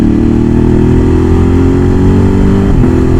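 A Memang Padu X-Cape 1200 motorcycle with a carbureted engine revs loud and close, its steady engine drone holding throughout with a brief pitch dip near the end.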